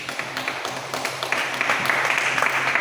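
A church congregation claps during a sermon, a dense, steady patter of many hands that builds slightly in loudness toward the end, with no talk over it.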